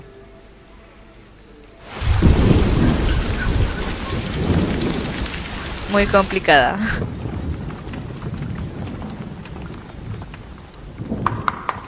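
Heavy rain pours down with rolling thunder, beginning abruptly and holding loud and steady, a sharp crackling thunder burst near the middle, with brief speech over the downpour.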